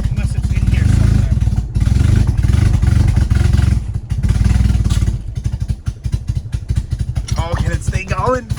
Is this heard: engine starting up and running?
yes